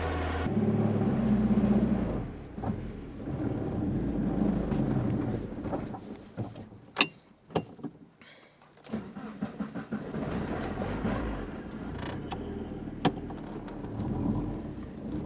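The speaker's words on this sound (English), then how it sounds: "I'm gonna let the motor warm up and then we'll take it for the first drive." A Mazda NA Miata fitted with a ZF dogbox idles to warm up, a steady low engine rumble close by with a few sharp clunks and pops partway through, running alone without talk.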